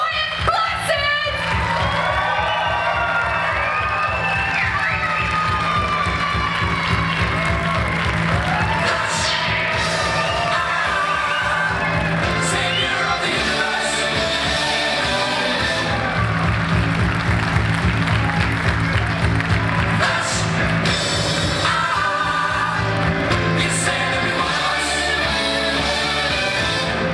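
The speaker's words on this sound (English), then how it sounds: "give the most monumentous scream ever for your Flash Gordon 40th reunion anniversary panel, Sanjay Jones and Brian Blessed." Convention crowd at Liverpool Comic Con applauding, cheering and screaming for Flash Gordon 40th reunion panel guests; dense sustained clapping and whoops fill the whole stretch, loud and close.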